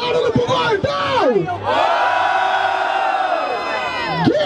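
A loud crowd at a Brazilian freestyle rap battle roars and cheers close by, with shouting voices rising and falling over a continuous wall of noise.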